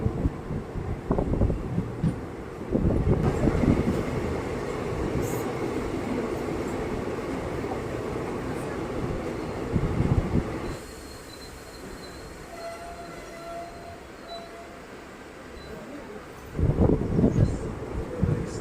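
A passenger train runs between Kumbla and Uppala stations in Kasaragod, Kerala, heard from on board: a steady rumble of wheels and carriages with brief louder bursts of clatter and squeal, then a quieter stretch before the noise swells again.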